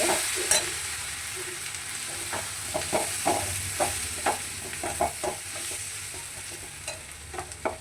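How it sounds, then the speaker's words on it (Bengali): Sattu being stirred and mashed with half a boiled potato using a metal spatula, giving repeated scraping taps at an irregular rhythm over a soft sizzling background, fairly close and with no voices. "আর তার সাথে দেবো হাফ পিস একটু আলু সেদ্ধ দিয়ে এটাকে ভালো করে ম্যাশ করতে হবে। এটাকে নেড়ে দিয়ে"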